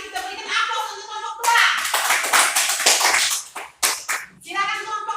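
A classroom group of students claps for a presenting group, a dense burst of hand claps rising and falling over several seconds, with a teacher's voice and children's chatter between and over the clapping.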